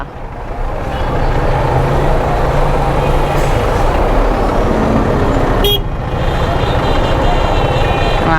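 Dense street noise in a crowded Cairo market, with a car engine idling close by, horn toots and steady crowd chatter throughout, loud and continuous with a brief dip near the end.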